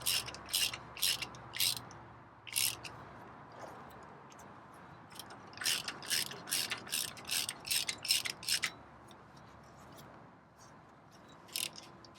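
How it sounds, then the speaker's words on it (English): Rapid ratchet clicking in several bursts as a wheel hub nut is turned on a Chevy one-ton truck, crisp and close against a quiet background, with pauses between runs and no voices. "Turn the nut the same direction that the rotor's turning."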